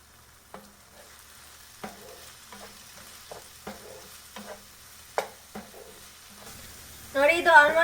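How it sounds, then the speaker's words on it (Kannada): Tomatoes cooking under a lid in a pan for prawn masala give a soft steady sizzle with light regular taps and stirring knocks, then a louder burst of crackling frying near the end. "ಈ ಟೊಮೆಟೊ ಚೆನ್ನಾಗಿ ಬಾಡಲಿ, ಅದಕ್ಕಾಗಿ ನಾನು ಒಂದು 2 ನಿಮಿಷದಷ್ಟು ಹೊತ್ತು ಮುಚ್ಚಿಟ್ಟು ಬೇಯಿಸ್ತಾ ಇದ್ದೇನೆ."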